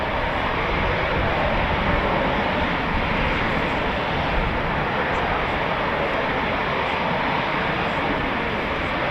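Eurofighter Typhoon FGR4 jet departing RAF Coningsby, a loud, steady broadband engine roar that holds for the whole stretch without fading.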